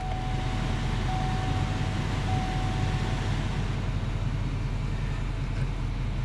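A Duramax L5P diesel truck engine idles steadily just after starting, with a continuous low rumble that holds even and close throughout.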